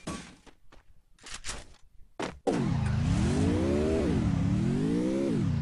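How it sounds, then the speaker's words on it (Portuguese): A car driving in a video game: a few short thuds and clicks, then a loud, close engine that rises and falls in pitch twice as it revs steadily, with no talking. "Tem um carro aqui pra me movimentar pra safe"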